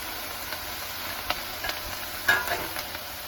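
Prawns and calamari sizzling on a Blackstone griddle, a steady soft hiss with occasional clicks and scrapes of a spatula stirring, close and without talking.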